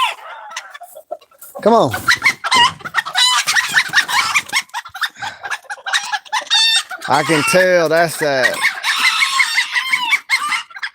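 Chickens in a coop cluck and a rooster crows loudly, close by, with a hen raised by quail among them and someone talking at intervals.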